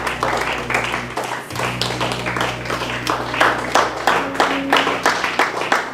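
Church congregation clapping in a steady rhythm, a continuous run of hand claps throughout with faint voices underneath.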